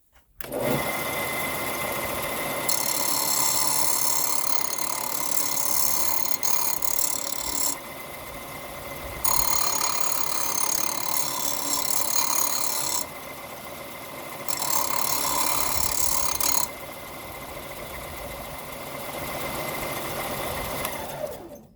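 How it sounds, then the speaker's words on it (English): A bench sander works a small part from a 1970 FJ40 Weber carb conversion held in vice grips, running as a steady whir while grinding contact comes in loud rasping stretches that stop and start. "sand them a little bit on the sander"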